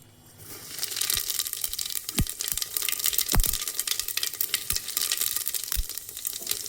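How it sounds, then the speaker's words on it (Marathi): Cumin seeds dropped into hot mustard oil in a pressure cooker burst into a loud, crackling sizzle, with several sharp pops and spatters over a dense frying hiss and no talking. "आता जिरं टाकून घेते"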